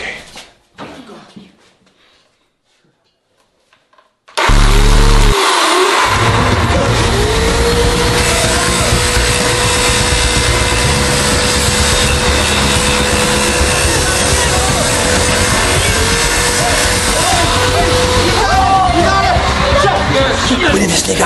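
A chainsaw cuts through wood during a staged prison breakout, starting after a few quiet seconds with a loud, steady engine roar that carries on unbroken to the end.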